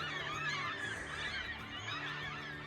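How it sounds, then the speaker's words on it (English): Seagulls call near a woodland cabin, a dense chorus of nasal, wavering cries layered continuously and fairly close. "Those are seagulls."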